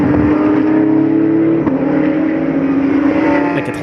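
GT race cars including a Lamborghini and a BMW M6 on a racing circuit, a loud, sustained engine roar from close by whose pitch shifts as a car changes gear.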